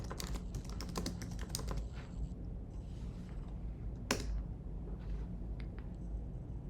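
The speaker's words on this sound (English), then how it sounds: "we need to type the command terraform plan." A computer keyboard clatters with a quick burst of typing, then sparser keystrokes and single taps, fairly close and quiet, with no one speaking.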